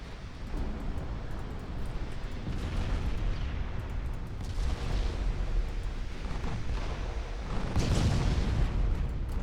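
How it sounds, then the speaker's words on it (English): Heavy cruiser main guns fire in the naval game Ultimate Admiral Dreadnoughts, deep rolling booms and rumbling blasts through a continuous loud battle din with no talk. "Main guns of the heavy cruisers fire at the enemy battle cruiser."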